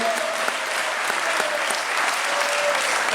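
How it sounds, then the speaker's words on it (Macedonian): Sustained audience applause fills an evening stage event, dense steady clapping from a crowd with faint voices mixed in, holding evenly throughout. "Аплауз уште еден."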